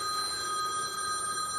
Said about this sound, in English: Answer my phone.